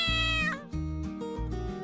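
A cartoon cat meows in a Minecraft-style animation, three or four drawn-out, tonal mews in quick succession, close and clear with nothing else over them.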